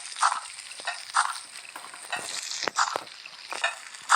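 Fish fries in a pan in the Toca Boca game, a close, bright sizzle that rises and falls in repeated bursts with a few sharp crackles and clicks.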